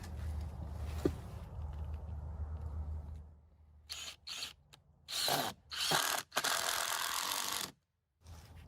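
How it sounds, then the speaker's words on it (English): An impact driver drives screws into pallet wood in a series of short, loud hammering bursts on a quiet off-grid building site, each separated by a brief pause, heard up close after a stretch of low background rumble. "Got an impact driver, make it easier."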